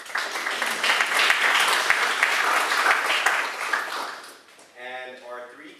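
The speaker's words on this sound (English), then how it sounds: "You can clap for them." An audience at a District 1 candidate forum applauds the panelists with loud, sustained clapping for about four seconds; it fades and a voice speaks.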